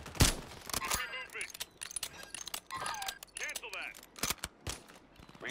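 Kar98k bolt-action rifle shots in the video game Warzone (Modern Warfare III), a few sharp cracks spread across a busy match mix with players talking over them.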